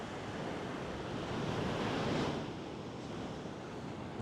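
Ocean waves wash continuously at the tide line of a fine, packed-sand beach in St. Augustine, Florida, a steady broad roar with a slight swell in the middle, and wind buffeting the microphone, with no voices.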